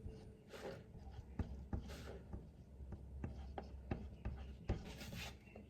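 Chalk or marker strokes scratch and tap across a board during a calculus lesson on differentiation, coming as a steady series of short rubbing strokes and sharp taps close by, with no talk over them.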